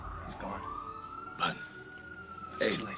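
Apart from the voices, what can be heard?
ambulance siren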